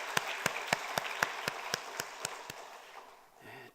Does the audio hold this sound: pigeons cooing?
no